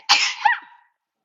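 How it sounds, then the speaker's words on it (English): A single sharp human sneeze comes at close range, with a breathy burst and a short voiced tail that fades quickly into silence. "now I'm going to sneeze"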